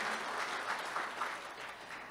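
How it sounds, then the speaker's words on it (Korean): Audience applause at a district council public forum in Yeongdeungpo, welcoming an introduced guest; a steady, even wash of many hands clapping at moderate distance, sustained throughout without voices. "큰 박수 부탁드립니다"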